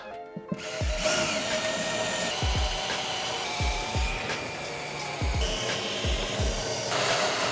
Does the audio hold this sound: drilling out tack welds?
yes